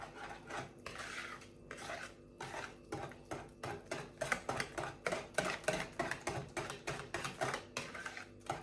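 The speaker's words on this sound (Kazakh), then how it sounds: "Былғап аламыз." A utensil beats cake batter mixed with oil in a bowl for a sponge pie, with steady, rapid clinking and scraping strokes that grow more rhythmic as it goes on.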